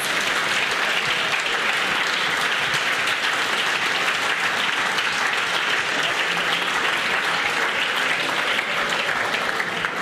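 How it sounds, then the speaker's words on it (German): Audience at a Berlin prophetic conference claps loudly and continuously for a brother standing in the hall, a dense, even wash of applause with no break. "Give a good clap to that brother."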